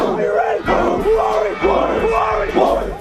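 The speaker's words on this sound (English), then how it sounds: "the home crowd shows some spirit" A home crowd at a homecoming high school football night chants in loud, rhythmic, repeated call-like bursts, roughly two per second, close and energetic.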